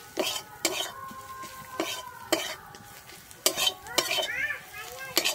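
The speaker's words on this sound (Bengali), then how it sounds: "আমি এই মশলাটা একটু ভালোভাবে কষিয়ে নিচ্ছি।" Cumin and coriander powder spice mix being stir-fried in a pan for chilli pakora snacks: a soft, continuous sizzle broken by repeated sharp scrapes and clinks of a spatula against the metal pan, close and clear.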